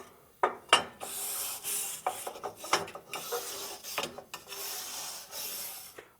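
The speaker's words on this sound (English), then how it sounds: "we're going to hit our secondary burn tubes with a wire brush" Wire brush scrubbing the secondary burn tubes of an Osburn 2400 wood stove indoors, with gentle, irregular rasping strokes and scrapes that come close and fairly quiet, and no voices.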